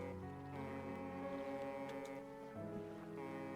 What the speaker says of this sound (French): Oh, j'ai un klaxon.